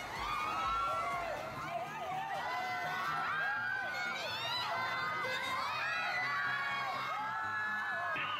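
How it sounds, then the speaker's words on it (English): Street crowd at the Cebu Sinulog festival parade cheering, whooping and shouting continuously, with excited children's voices and overlapping yells forming a loud, dense roar throughout. "Whenever there's a Filipino celebrity, the crowd goes wild."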